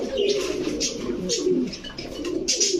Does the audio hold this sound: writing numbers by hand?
no